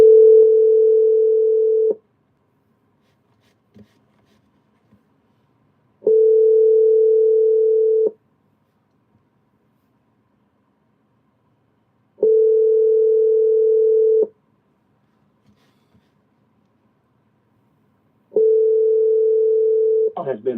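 A phone call left unanswered, four evenly spaced ringback tones of about two seconds each separated by roughly four seconds of silence, clear and steady, with a faint voice starting at the very end.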